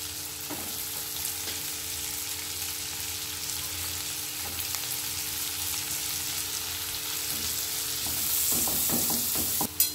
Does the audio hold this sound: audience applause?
no